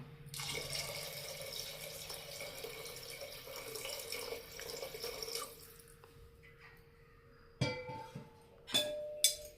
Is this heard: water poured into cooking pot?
yes